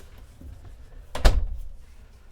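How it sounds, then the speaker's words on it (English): The door of a Phoenix 370BAF RV camper closed with a single solid thunk near the middle, loud and close, over faint room noise. "Let's go ahead and close this door."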